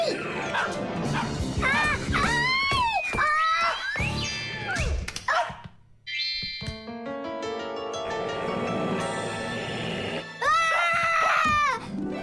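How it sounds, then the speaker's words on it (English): Loud, high-pitched barking yips repeat rapidly in a Fixies cartoon, close and shrill. A cartoon voice chatters briefly in the middle before the yapping returns at the end. "Hey, Tom Thomas, please tell your rabbits that they can stop barking so loudly."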